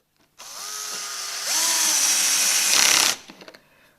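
A cordless drill drives a pocket hole screw into a joint on its low speed setting, a steady motor whine that rises in pitch partway through and stops abruptly, followed by a few faint clicks.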